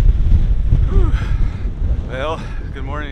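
Strong wind buffeting the microphone on a stormy Baja morning outdoors, loud rumbling gusts throughout while a person speaks a short greeting over it.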